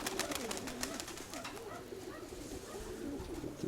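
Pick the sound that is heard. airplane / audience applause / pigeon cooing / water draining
pigeon cooing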